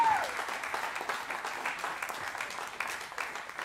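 Audience applause for a tenor saxophonist at an evening jazz concert, a dense steady wash of many hands clapping, moderately distant and sustained for several seconds.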